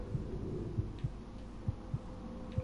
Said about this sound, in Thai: ทำไมต้องมีเสียงหัวใจเต้นด้วยวะ